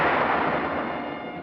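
Enemy artillery and gunfire in a WWII battle at San Pietro, Italy: a loud, dense, rumbling blast that decays slowly, with no voices.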